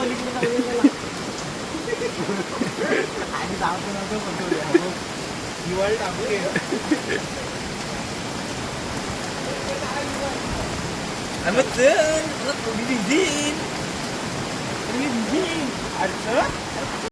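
A monsoon-swollen river in the Konkan rushes in a constant roaring wash, loud and close, while people talk intermittently over it.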